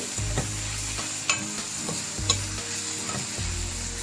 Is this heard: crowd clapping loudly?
no